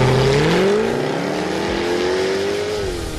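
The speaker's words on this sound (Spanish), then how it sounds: "¿Y el escape? Suena como un trombón eléctrico enojado que escupe fuego." A Jaguar F-Type coupé's V8 engine and exhaust rev loud and close, the tone rising and falling in smooth sweeps as the throttle opens and eases off, with no voices.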